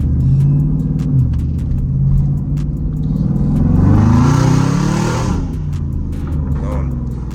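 An SRT Jeep engine rumbling and revving while driven hard, a loud, close low drone that swells and climbs in pitch midway before easing off, with someone talking over it.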